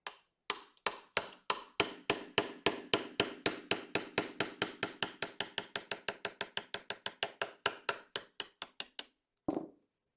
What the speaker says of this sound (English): Now we can tap out our roll pin.